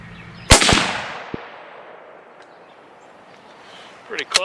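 .270 Winchester rifle fired at a 100-yard range with 130 grain ammunition, one loud close crack with a long rolling echo, then a brief pause before more sharp reports near the end.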